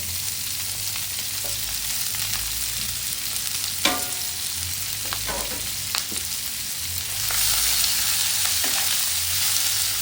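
Large, already cooked mussels are stir-fried with ginger in a pan, making a steady close hiss and a few hard clacks and scrapes as the shells are tossed. The sizzle grows louder toward the end.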